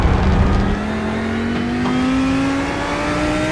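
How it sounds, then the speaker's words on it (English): A GT3 race car on the wet COTA circuit in a racing video game drones loudly from the cockpit view, its engine pitch climbing steadily as it accelerates with no break. "That sound of that car having no grip all race."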